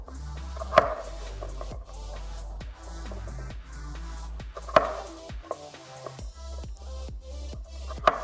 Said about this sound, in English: we're gonna slice them again in half because we want thin stalks of celery